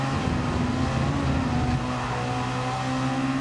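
A BMW engine in the racing game Gran Turismo 7 drones at a steady, loud pitch with a strong low hum and harmonic whine, holding nearly constant throughout with no speech over it.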